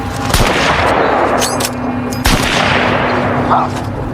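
Gunfire in a war film scene: sharp loud shots cracking out amid a dense battle din, one near the start and another strong report midway, with no talk.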